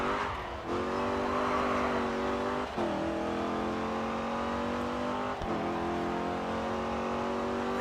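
A Dodge Challenger engine races in Grid 2, revving hard and climbing in pitch through three quick gear shifts, with faint tire squeal under the loud, continuous roar.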